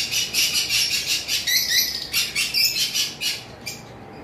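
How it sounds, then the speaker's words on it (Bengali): Caged lovebirds, including a sea green lovebird, give rapid shrill squawks and chirps in quick repeated bursts, loud and close, with no talking. "এখানে একটা সি গ্রিন লাভবার্ড রয়েছে, এটা 2000 টাকা পড়বে"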